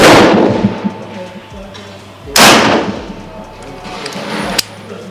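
A .50 caliber T50 PCP airgun fires slugs at an outdoor range, with two loud, sharp reports about two seconds apart, each followed by a short ringing decay; a fainter crack comes near the end.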